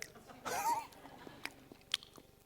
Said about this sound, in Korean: 우리 집사람이 쩝쩝거리지 말라 그랬는데